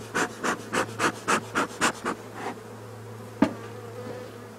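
Several rhythmic puffs of a beekeeper's smoker come first, then a steady low buzz of honeybees in a hive hums alone, close and fairly faint, with a single sharp knock near the end.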